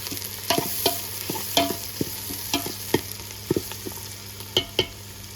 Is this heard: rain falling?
no